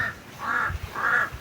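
Crows give three harsh, drawn-out caws in quick succession, fairly close and clear, with no talking.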